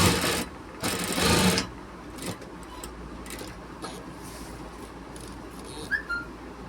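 Sewing machine stitching a shirt during a fitting alteration: two short, loud bursts of motor whir near the start, then quieter workshop handling noises and a brief whistle-like tone.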